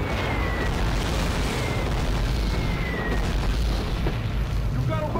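Artillery barrage in the Call of Duty: Roads to Victory war game, a dense continuous rumble of heavy booms and explosions throughout, loud and sustained with a busy battlefield mix layered on top.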